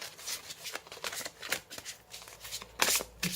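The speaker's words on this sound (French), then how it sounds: "On va voir maintenant avec l'oracle des anges de l'amour de Dorine Virtue" A deck of angel love oracle cards is shuffled by hand up close, giving a soft, quick run of riffling flicks and papery slides at low volume, with no speech over it.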